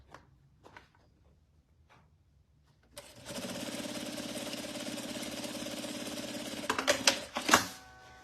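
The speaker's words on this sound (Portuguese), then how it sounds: "Primeira costura. E agora vamos para a segunda costura." A sewing machine stitches a seam on a crossbody bag. After a few quiet seconds it starts and runs as a steady close mechanical whir, then ends with a few knocks and clunks.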